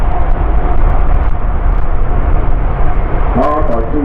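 An Airbus A350 XWB with two Rolls-Royce turbofans at the Farnborough Airshow gives a steady, loud jet roar. Talk is heard over the roar toward the end.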